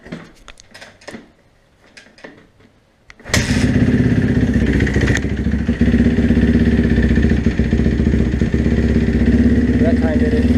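A Kawasaki KX250F dirt bike is kicked over on a cold start after a few quiet clatters, then holds a loud, close, steady idle with a fast thumping single-cylinder beat, and no one speaks.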